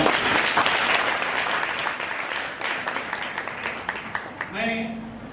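Audience applause fills a seminar hall at a college in Lucknow, dense steady clapping that thins toward the end, where a voice begins to speak.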